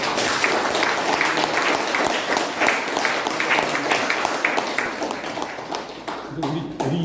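Applause and some cheering from an assembly audience at a founding general meeting held at a prison history museum, dense steady clapping for about seven seconds that thins toward the end.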